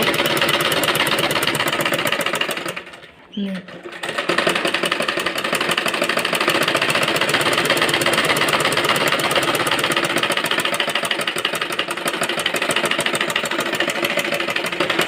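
A sewing machine stitches a fabric border onto a child's dress, running as a loud, fast, continuous mechanical chatter that pauses briefly for about a second before resuming steadily.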